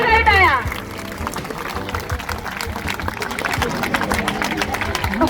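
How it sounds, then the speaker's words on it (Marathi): Applause rises from the crowd welcoming guests at a school Republic Day celebration, a steady patter of many hands under a speaker's voice. "टाळ्यांच्या गजरात स्वागत सरांचा, जोरदार टाळ्या"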